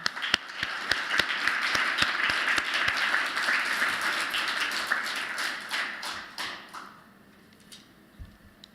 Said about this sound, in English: You deserve a big round of applause for your efforts.